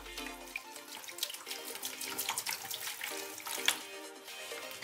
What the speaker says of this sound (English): All right, Barbie, here comes the water